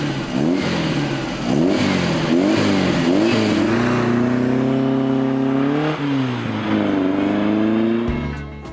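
Orange 1972 VW 1200 Beetle with its air-cooled engine revving repeatedly and then pulling through the gears, a loud, close, continuous engine note that rises and falls.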